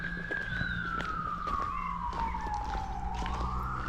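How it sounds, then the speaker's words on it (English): A siren wails in the distance, its long tone sliding down in pitch as it passes, then rising again, over faint background hum. "a siren just went past"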